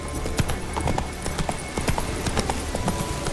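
Hooves of Roach, a horse in The Witcher 3 game, clip-clop in a quick galloping rhythm with steady sharp strikes over a low background rumble.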